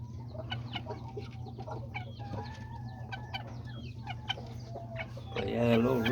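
Several small roosters, including a sick little bird, cluck in short scattered calls over a steady low farmyard hum at a family home, with a brief louder burst near the end.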